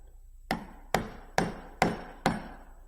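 Five sharp, evenly spaced mallet strikes on a bevel edge chisel chopping a mortise in wood, each a crisp close knock with a short ringing decay, no talk.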